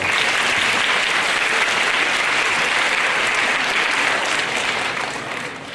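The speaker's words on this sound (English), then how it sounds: "Can you give Adam a round of applause?" A concert audience at a keyboard festival claps steadily in sustained, dense applause for a performer, loud and even for several seconds before starting to taper off at the end.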